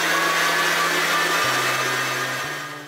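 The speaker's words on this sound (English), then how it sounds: "Now all the sugar's in with the egg whites, we want to whisk this for a further 2 to 3 minutes" An electric whisk beating egg whites and sugar into stiff-peaked meringue, a steady loud whir with faint shifts in pitch and no talking.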